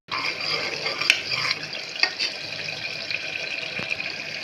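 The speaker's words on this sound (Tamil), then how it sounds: "போட்டுட்டு நல்லா வதக்கி விடுங்க. பச்சை வாசனை போகிற வரைக்கும் வதக்கி விடணும்." Ground paste sautéed in a pan with mustard seeds and curry leaves for karamani rice gives soft sizzling and repeated stirring scrapes, close and steady with occasional clinks of the spoon.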